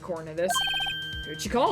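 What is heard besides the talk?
phone ringtone ringing in Ace Attorney video game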